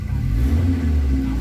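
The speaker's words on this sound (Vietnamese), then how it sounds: "Đó, nổ máy rồi nè." A used car's engine runs just after starting, a steady low-pitched idle rumble with a slight rev, close and fairly loud, with no talking.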